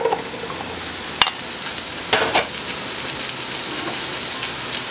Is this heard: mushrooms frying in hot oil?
yes